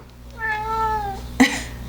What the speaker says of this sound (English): Our cat's gonna come harass us now.